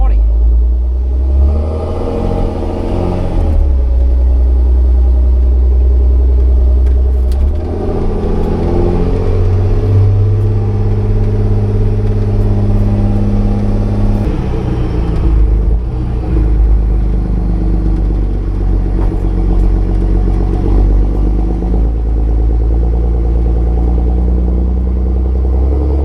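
A Volvo 6x6 dump truck pulls away in drive, its engine rumbling loud and close with a steady, heavy drone that shifts in pitch partway through. Someone talks over it.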